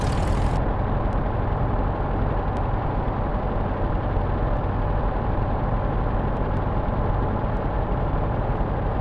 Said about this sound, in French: le mécanicien donne le top de mise en route des moteurs